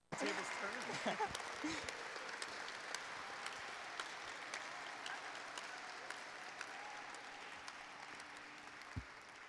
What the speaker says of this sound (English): Please give Mr. Hatfield a round of applause.